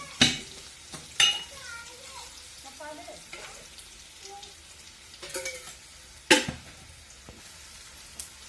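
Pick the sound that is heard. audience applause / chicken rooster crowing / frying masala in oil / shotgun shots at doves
frying masala in oil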